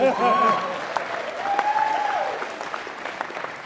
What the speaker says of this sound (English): I think you deserve a round of applause for yourselves.